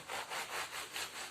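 A knife saws through the tops of soft, moist food in quick, even back-and-forth strokes, close and steady, with about six rhythmic rasps and no voices.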